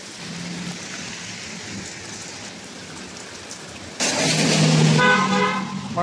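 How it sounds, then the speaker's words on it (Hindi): Rain falls steadily on a street in Jeddah, with a soft continuous patter. Partway through, it grows louder and closer as a car horn honks over it. "भाई बारिश चालू हो गई है"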